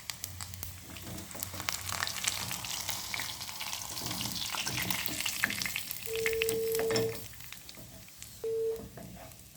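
Meat frying in a pan, a soft continuous crackle and sizzle with occasional stirring clinks, close and fairly quiet, with brief tonal hums in the background.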